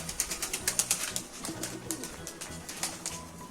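Young Mardin pigeons close by, with a quick run of fluttering wingbeats mixed with soft, low cooing calls in a brief, busy burst.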